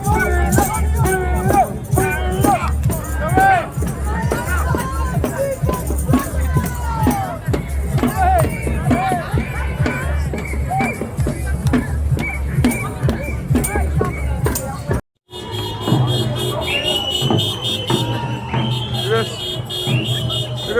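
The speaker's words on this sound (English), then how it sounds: "Look at the size of that crowd, guys." A huge crowd of protest marchers fills the road with a loud, constant babble of voices, cheering and shouting close by, and horns or buzzers sound over it.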